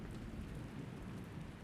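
Heavy rain in the video game Rain World, a dense, loud, continuous downpour roar with deep rumbling low end like a storm, no voices over it.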